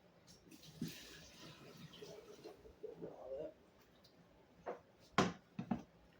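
Water is dumped out during mozzarella making, heard as faint, scattered splashes and pours with a few sharper slaps and splashes near the end against a quiet background.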